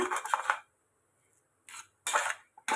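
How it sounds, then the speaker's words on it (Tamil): A ladle mashes soft cooked rice in a pot: a few short, close clattering scrapes of metal against the pot, separated by brief silences. "நம்ம கரண்டியை விட்டு மசிச்சு விட்டுட்டு நம்ம தாளிச்சுக்கலாங்க."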